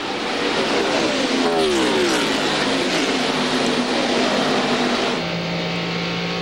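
A pack of NASCAR stock cars races on the track at the 2001 Winston, a dense, loud, continuous engine roar with sweeping pitch shifts as cars pass and shuffle positions.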